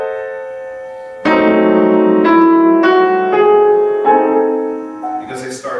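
Slow, unhurried piano notes ring out one after another and sustain, played close with no talking.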